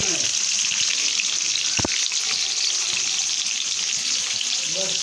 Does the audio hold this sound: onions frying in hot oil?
yes